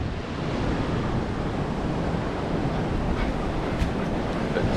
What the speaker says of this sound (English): And the wind's just blowing them back around.